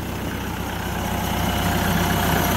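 A TYM 654 tractor's turbocharged Deutz four-cylinder diesel engine, roughly 2.9 liters, idles steadily and close by, with a low, even rumble and no talk.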